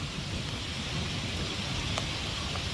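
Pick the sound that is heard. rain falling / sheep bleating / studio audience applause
rain falling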